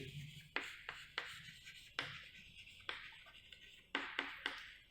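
Writing on a board during a chemistry lesson, a series of scratchy strokes in uneven bursts, close and moderately quiet, with brief pauses between them.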